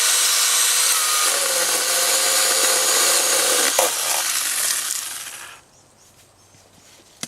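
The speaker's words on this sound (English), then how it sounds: "I guess he's cutting off the dead" Dead fronds being cut off a palm tree: a loud, steady rasping saw-like scrape with rubbing and cracking fills most of the clip, then cuts off and leaves a quiet stretch.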